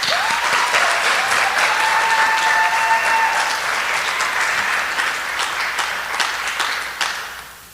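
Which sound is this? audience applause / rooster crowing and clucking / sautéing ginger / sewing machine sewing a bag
audience applause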